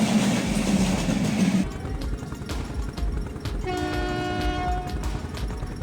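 Train in a video game flying over trees, mountains and buildings: a loud rumbling run with a horn blast near the start, then rattling clatter and a tonal whistle-like sound toward the end.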